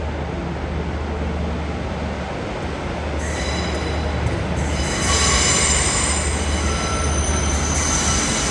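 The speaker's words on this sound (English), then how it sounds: "now departing now is the 1513 ScotRail service to Carlisle, 156503." A ScotRail Class 156 diesel unit, number 156503, pulls out of Glasgow Central on a service to Carlisle, with a steady loud rumble and rising engine note as it departs, and some wheel squeal near the end.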